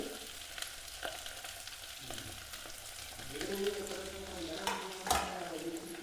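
Onions and green chillies go into a pan of fried cumin and mustard seeds for a spinach potato curry, a quiet sizzle that swells as they land, with a few spoon clinks.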